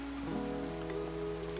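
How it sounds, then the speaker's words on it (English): Steady rain in Minecraft hisses as a constant wash, with a sustained tonal hum beneath it, even and unbroken for under two seconds. "We'll just have to live in the rain, I guess."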